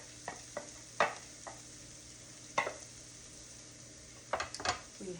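Onions, peppers and mushrooms cooking in a pan without olive oil, soft sizzling under a handful of light utensil scrapes and stirring taps, quiet and close.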